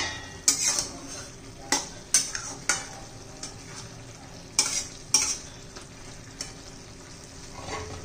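A spoon stirs a hyacinth bean vegetable dish in a pan, sharp metallic scrapes and clinks landing every second or so over a low, steady sizzle, close and fairly quiet.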